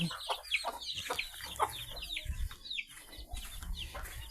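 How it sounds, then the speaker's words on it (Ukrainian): Several chickens cluck and squawk nearby in short, overlapping bursts as they are fed and let out in a small village, with some rustling and shuffling underneath. "Годую курей і випускаю."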